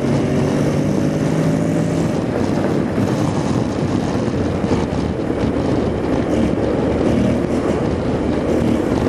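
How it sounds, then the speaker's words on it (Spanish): Honda X-ADV 750 motorcycle on the road, a continuous loud engine drone mixed with heavy wind rush, the pitch shifting gently as the rider eases off and opens the throttle again. "Me encanta cuando uno desacelera y ella solita va como devolviendo el cambio y uno vuelve y la acelera"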